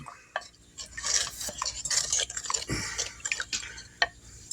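A spoon stirring broth in a crockpot for pot roast, soft wet swishing with occasional clicks against the pot, close and fairly quiet, no talking.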